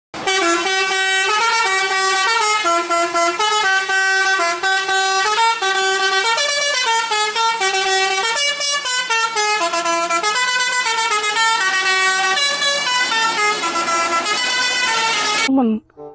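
Loud musical multi-tone horn of a Persib Bandung bus, a melodic tune that plays continuously for about fifteen seconds before cutting off abruptly.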